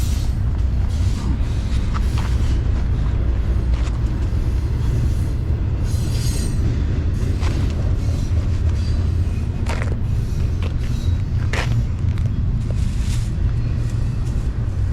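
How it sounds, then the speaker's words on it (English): A freight train rolls in on the line west of Chicago, heard as a continuous heavy low rumble with faint wheel squeals and clanks, steady and fairly loud throughout. "my train is rolling in, but it's blocked by this coal scuttle"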